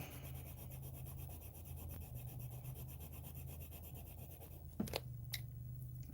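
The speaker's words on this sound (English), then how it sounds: "I'm going to now smooth it out with my final top layer, left and right, very quickly" Cornflower blue Star Joy colored pencil smoothing a final top layer on paper with quick left-and-right strokes, a soft continuous rubbing near and quiet, with two sharper scrapes near the end and no talking.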